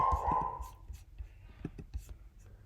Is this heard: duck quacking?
no